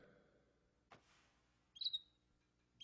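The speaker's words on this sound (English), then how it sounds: "Nice bird." A short bird call rings out alone in a quiet scene set in Chinatown, a brief high chirp following a soft thump, with no one speaking over it.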